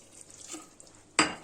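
Hot water poured into a pan of sizzling sautéed meat, with faint stirring and a quiet bubbling before a sudden loud hiss bursts up near the end.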